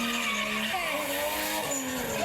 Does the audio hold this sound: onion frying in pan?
no